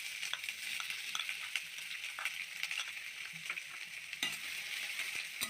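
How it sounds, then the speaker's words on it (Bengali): Chopped onion frying with spices such as dried red chillies and bay leaf in a pan while ghugni with egg is being cooked, giving a steady, close sizzle with occasional stirring scrapes and crackles and no talking. "অল্প ভেজে নেওয়ার পর ছোট এক বাটি পেঁয়াজ কুচনো দিয়ে দেব।"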